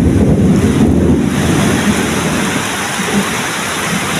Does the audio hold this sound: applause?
no